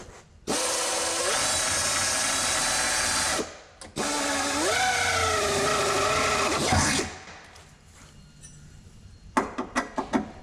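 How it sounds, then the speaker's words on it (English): A power drill whines loudly in two long bursts while boring a 5/16-inch hole, its pitch rising and falling as it bores in, followed by a few short scraping clicks. "I'm going to drill a 5/16 hole"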